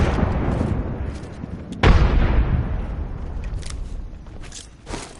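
A grenade goes off in a first-person shooter as one sharp, loud blast that decays into a rumbling tail. Quieter crackles and pops of gunfire follow.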